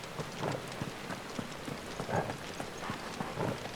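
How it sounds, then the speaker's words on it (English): Rain falling indoors inside a cloister in Final Fantasy XVI, a steady patter of drops on hard surfaces with scattered louder splashes, moderately quiet and continuous. "Also, why is it raining inside?"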